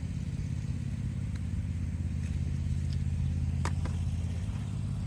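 A riding lawn mower engine runs steadily nearby in a vegetable garden, a continuous low drone with a couple of faint clanks over it and no talking.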